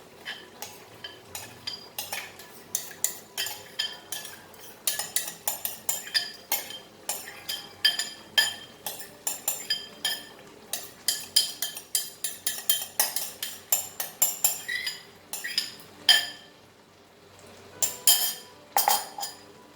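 Chicken masala being stirred with curd in a kadai, a close run of metal spoon clinks and scrapes against the pan repeating irregularly throughout, with soft wet mixing between strokes.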